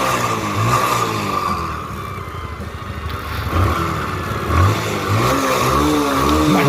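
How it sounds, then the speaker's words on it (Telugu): A motorcycle left unused for a year, worked on by a village mechanic, fires up and revs repeatedly, its engine note rising and falling in several bursts close by with no talking. "ఓకే, ఇప్పుడైతే నేను బండి స్టార్ట్ చేస్తున్నాను."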